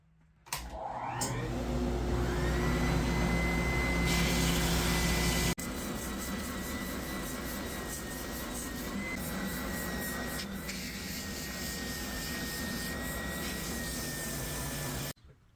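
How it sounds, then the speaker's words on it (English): A spindle sander shaping a scrap wood board, the motor spinning up with a rising whine and then grinding steadily and loudly against the wood before cutting off. "Then I moved to the spindle sander."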